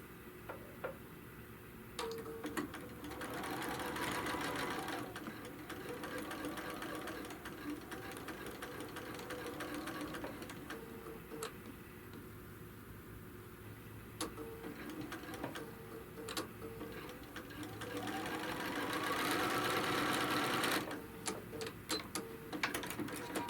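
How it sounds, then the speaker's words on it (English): Sewing machine stitching a seam along the second side of a quilt, a steady mechanical whir with rapid ticking stitches, fairly quiet, with brief pauses and a louder, busier stretch near the end. "we're going to sew the other side."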